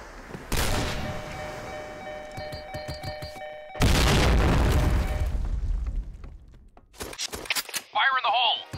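Bombs go off in the video game Xcystence: two loud, close blasts a few seconds apart, each a roaring burst that decays slowly, with scattered pops and a voice in between.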